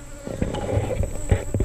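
Honey bees buzzing around a hive being relocated, a steady close hum with a few louder passes of individual bees, alone without talk.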